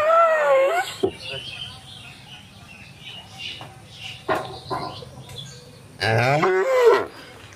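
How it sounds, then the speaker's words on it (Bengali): Friesian heifer calves give loud, drawn-out moos at the start and again near the end, with quieter stretches of soft background noise and occasional clatter between. "এটা দেখলেন 3 নম্বর বকনা বাচ্চা।"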